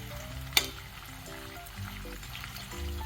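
Carrot pieces fry in oil for carrot pickle, a soft continuous sizzle with one sharp clink early on and a faint tonal hum running underneath.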